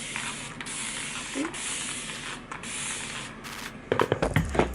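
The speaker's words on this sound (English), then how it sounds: "I take my spray bottle and just start spraying my hair, make it wet." A spray bottle of water hisses in several short, close bursts onto hair, followed by rustling handling noises at the end.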